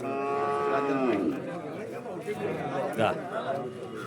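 A buffalo lets out a deep, drawn-out moo over a steady murmur of background chatter and crowd noise at a Kollannur cattle market.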